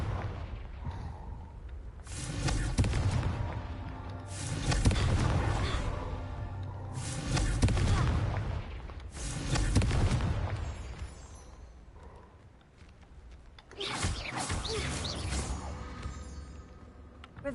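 Confringo blasting spells exploding in Hogwarts Legacy: a series of about five heavy booming blasts spaced a few seconds apart, each with a rumbling tail over a low game ambience.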